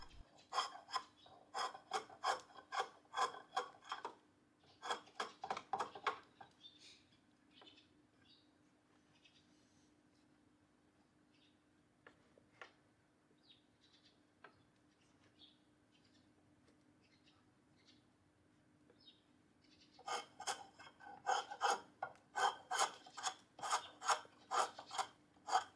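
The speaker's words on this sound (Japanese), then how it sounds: "材料を回転させながらドローナイフで削っていきます。" A draw knife shaves a 2x4 workpiece held on a homemade folding shaving horse, giving bursts of close, rhythmic rasping strokes at the start and end, with a quieter stretch of scattered light clicks and scrapes between.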